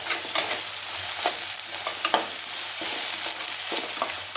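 Ginger garlic paste sizzles in a pan while being stirred for a Chettinad quail gravy, with steady frying crackle broken by repeated scraping stirs, close and alone.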